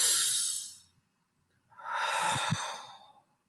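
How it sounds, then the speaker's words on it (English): A close, breathy yawn: a long airy intake, a brief pause, then a drawn-out exhale with a slight vocal groan. "I have to yawn because my brain needed"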